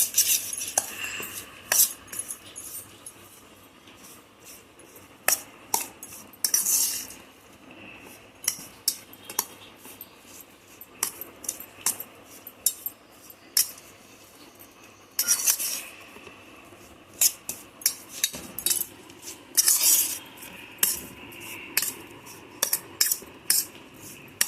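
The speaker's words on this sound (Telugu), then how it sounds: "కారం ఉడవాలి, అన్నీ మిక్స్ చేయాలి." A spoon clinks and scrapes against a metal bowl while chili powder and spices are mixed for a Guntur-style carrot and mango pickle, with sharp, irregular close clatters over quiet pauses and no talking.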